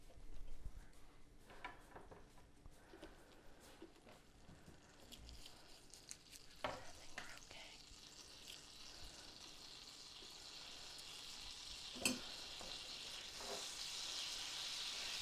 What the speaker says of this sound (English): And we're going to melt that butter in the pan.